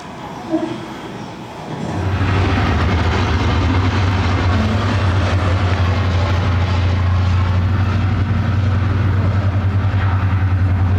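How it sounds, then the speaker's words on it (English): A B-17 bomber, the Memphis Belle, takes off in a studio backlot show effect: after a brief quieter start, a loud, deep, steady engine roar swells in and holds continuously to the end, with no talking. "You have just seen the Memphis Belle take off for its 25th and final mission"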